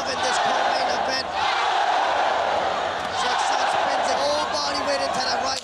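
A packed arena crowd roars during a ONE Championship co-main event fight at Madison Square, producing a dense, loud wash of cheering and shouting that barely dips. A commentator talks over it.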